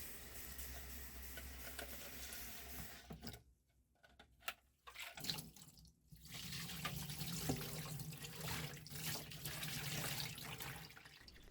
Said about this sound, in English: I can rinse them under running water